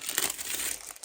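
Small pieces of paper are torn by hand for a junk journal cover, making a quick, quiet crinkling rip that lasts about a second.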